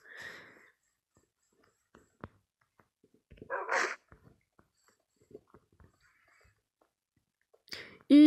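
A Minecraft wolf gives a few scattered, short barks and yaps in a quiet game scene, alone with brief soft in-game sounds between them.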